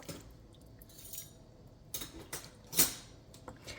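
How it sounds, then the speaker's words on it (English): A spoon stirs lentil soup in a cooking pot, giving a few soft, scattered scrapes and clinks against a quiet background, with one sharper knock near the end. "So now I'm just going to stir it up very well."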